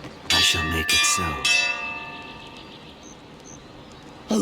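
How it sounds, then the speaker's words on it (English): Several loud clanging strikes of a large ship's bell in the fantasy role-playing game Pillars of Eternity 2: Deadfire, close and rhythmic, each ringing out into a long shimmering decay that fades over a few seconds. "Who's rung the bell and why?"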